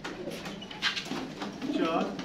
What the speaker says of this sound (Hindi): आज फाइनली जी कबूतर जी हमारे जा रहे हैं छत पे।